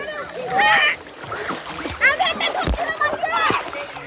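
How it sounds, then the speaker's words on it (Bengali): A person ducking into water at an outdoor gathering, with splashes and sloshing close by while people talk and children's voices call out over it. "দাঁড়াও আমি একটা ডুব দেই"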